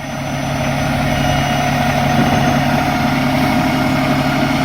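The engine of a fire truck, Engine 13 of Martinez, idles with a loud, steady, continuous rumble and hum close by, holding an even level throughout with no voices.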